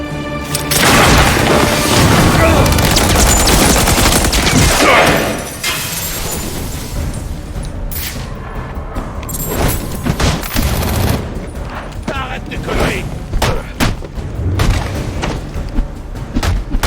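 Gunfire bursts loudly in a Batman Arkham Origins game scene, heavy booming volleys in the first five seconds, then scattered sharp shots and crashes through the rest.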